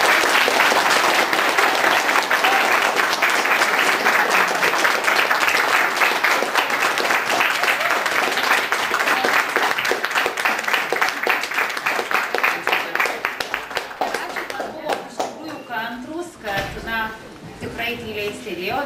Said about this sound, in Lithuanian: bent jau plojimais padėkokit gerbiamams